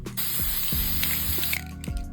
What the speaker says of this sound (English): And I'm just lightly spraying.